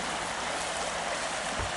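Continuous rushing of flowing water, a close, steady babble like a small stream running over rocks.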